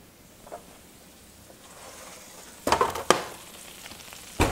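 Potatoes fry in a pan with a faint steady sizzle, then a few louder bursts of crackle and clatter as the pan is handled near the end.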